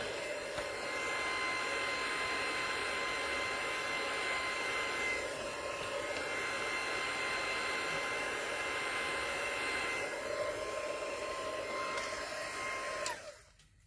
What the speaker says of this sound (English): I'm just going to put my heat tool on the first setting